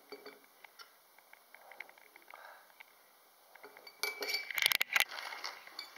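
Quiet scraping and light tapping of a knife cutting soap base on a board, then a brief burst of clinking and clattering of utensils up close.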